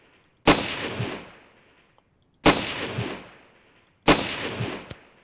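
Three loud sniper rifle shots in Ravenfield, a battlefield shooter game, spaced about two seconds apart, each a sharp crack followed by a rolling echo that fades before the next.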